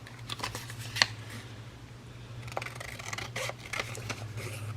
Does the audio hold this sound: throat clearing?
no